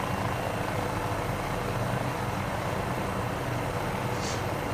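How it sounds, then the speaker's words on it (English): MD500E helicopter engine and rotor in Microsoft Flight Simulator 2020 during a short flight over New Zealand: a steady, dense whirring drone at even loudness throughout, heard alone without speech. "I just love the MD500. It's such a beautiful aircraft."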